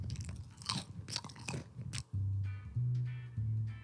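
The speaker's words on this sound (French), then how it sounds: "Je déteste entendre quelqu'un mâcher, surtout en ASMR" Someone chews close to the mic in ASMR style, with crisp crunching bites in the first half. A low steady hum follows in several sustained bursts.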